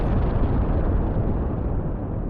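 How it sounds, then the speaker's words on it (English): A massive explosion outside in the video game Kingdom Hearts 2 gives a loud, dense, continuous roar of rumbling noise that barely changes and fades slightly at the end. "there is a massive, massive explosion outside, and things are about to kick off."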